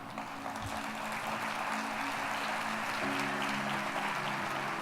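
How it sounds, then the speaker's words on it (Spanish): Steady applause from a church congregation, moderately loud and continuous, with a faint voice underneath. "denle un aplauso al Señor"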